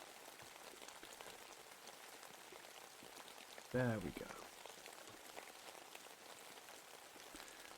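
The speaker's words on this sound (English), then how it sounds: "Got some nice rain in the background, which is always peaceful and soothing." Soft steady rain falls in the background, a faint continuous patter, with a brief spoken phrase partway through.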